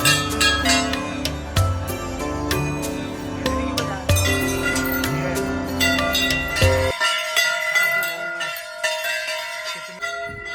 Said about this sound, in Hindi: अब दोबारा घंटे बजाओगे?